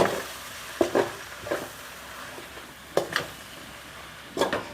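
Soaked, squeezed puffed rice is mixed in a pan for puffed rice upma, giving a series of scattered soft scraping and clinking strokes with quiet gaps between them.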